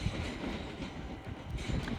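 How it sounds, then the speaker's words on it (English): A Class 378 London Overground train rumbles past near Stratford, a steady loud rolling roar with faint rhythmic wheel clatter and no voices. "This will be my last train. (378 257)."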